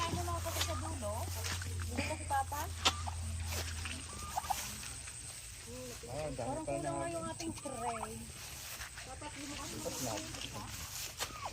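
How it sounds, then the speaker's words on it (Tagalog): Turkeys gobble repeatedly in bursts close by on a farm, with a low engine-like hum early on and faint voices in the background. "Dalawa na lang ang aming pabo."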